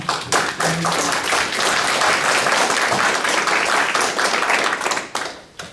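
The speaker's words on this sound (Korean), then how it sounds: "다 같이 힘찬 박수로 성원을 보내주시면 고맙겠습니다." A crowd at a fundraising evening for Jason Park claps steadily and loudly, dense sustained applause filling the room as he is welcomed, with no talking over it.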